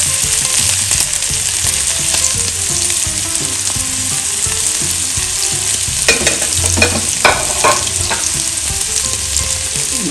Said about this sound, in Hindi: हमारा तेल हो गया है गरम, तो हम कबाब डालेंगे।